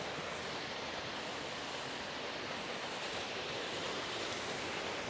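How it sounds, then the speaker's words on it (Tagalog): A small waterfall in the Sierra Madre pours into a deep lagoon, a steady broad rush of falling water that stays constant and fairly close, with no voices. "Dito mayroon pang mini falls na madadaanan."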